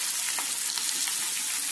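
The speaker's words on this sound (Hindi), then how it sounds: "हमें इसे 2 मिनट तक भूनना है।" Potatoes fry over a high flame in a kadai, giving a steady, bright sizzle heard up close for a brief moment with no voices.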